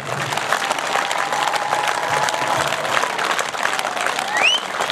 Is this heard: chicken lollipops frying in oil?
no